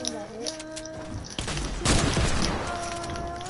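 Video game gunfire, with a sharp shot followed by a louder booming burst of several rapid reports, heard amid game music tones and background effects.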